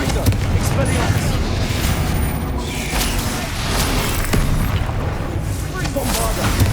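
Explosive Confringo and Bombarda spells in Hogwarts Legacy go off as dense, continuous booming blasts and rumbling impacts in heavy combat, loud and layered throughout, with a voice shouting over them.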